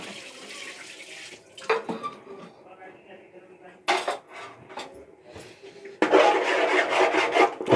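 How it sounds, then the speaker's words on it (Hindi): Two kilograms of fish are mixed by hand with four spoons of homemade garam masala, giving soft wet rubbing and squelching with clinks of metal utensils and a pot, in uneven bursts that grow louder toward the end. "तो बढ़िया से इसे मिक्स किया जा रहा है।"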